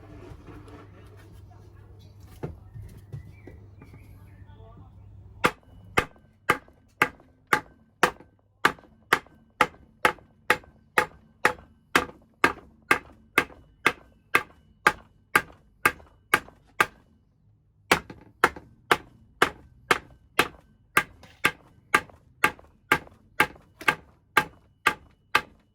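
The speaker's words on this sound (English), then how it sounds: "Hammer." Sharp metallic hammer blows strike a car exhaust pipe at a steady, regular pace, about two per second, near and loud. There is a brief pause partway through, then the blows resume.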